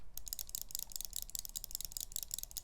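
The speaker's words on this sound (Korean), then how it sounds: "지금까지의 레이저 마우스들은 이런 클릭음을 내줬어요." Rapid, crisp button clicks from a Razer gaming mouse in quick succession, a bright high-pitched clatter repeating steadily throughout, close and fairly quiet with no voices.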